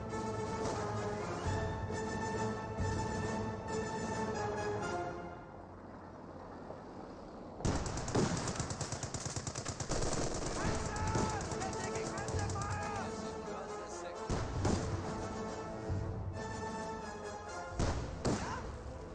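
Battle gunfire and impacts in Company of Heroes 2, a rapid crackle of shots and thuds at moderate distance with intermittent bursts, running under a commentator's voice.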